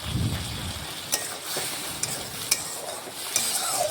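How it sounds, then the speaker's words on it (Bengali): Potatoes coated in mustard and poppy seed paste stirred in a hot pan, with a soft continuous sizzle broken by light scraping and clicks of the spatula, close and without talk. "এখন নাড়াচাড়া করে ভালোভাবে আলুর সাথে মিশিয়ে নেব।"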